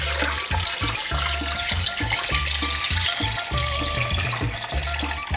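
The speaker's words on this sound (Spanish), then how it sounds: "Aquí le vamos a poner el agua." Water pouring into a pressure cooker holding meat, a steady splashing gush running without a break, with a rhythmic low thumping pulse underneath.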